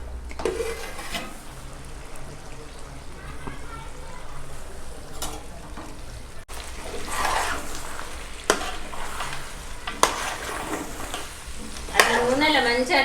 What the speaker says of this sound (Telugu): నూనెలో మంచిగా అట్లా వేగింది అనుకోండి, చూడండి ఆయిల్ పైకి తేలింది